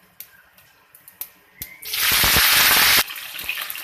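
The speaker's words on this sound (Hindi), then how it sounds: "ये हम कर रहे हैं अरवी को फ्राई।" Taro root (arbi) tipped into hot oil with cumin, a sudden loud sizzling burst that holds for about a second before easing to a softer crackle, preceded by a few light clinks and taps.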